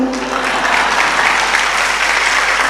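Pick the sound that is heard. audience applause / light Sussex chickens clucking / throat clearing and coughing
audience applause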